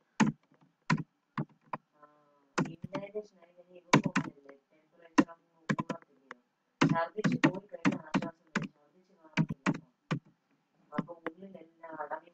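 Someone typing a name or email address on a computer keyboard, with irregular clusters of close key clicks and a few short pauses, mixed with faint voice-like sounds.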